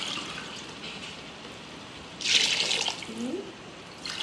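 Water poured from a glass into a pot of rice for matar pulao, a short splashing burst in the middle over a quiet kitchen background, with a faint trickle following.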